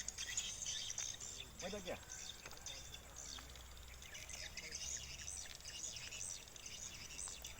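Swiftlets chirp and twitter continuously at a colony on Bukit Tirig, Sandakan, a busy layer of high calls that is fairly faint, with someone speaking briefly over it.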